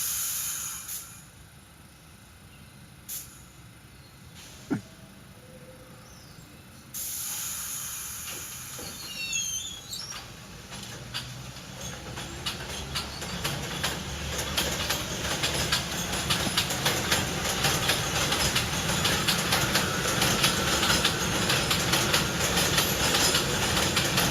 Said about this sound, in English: just so you hear what R68s sound like, this is leaving 25th Avenue about 6 in the morning one day